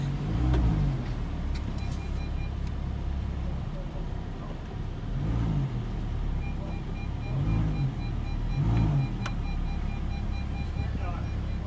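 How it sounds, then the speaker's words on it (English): A new Lamborghini Huracan's engine idles with a steady low rumble and a few soft swells, heard from inside the car, with a voice in the cabin. "That's what a Lamborghini feels like."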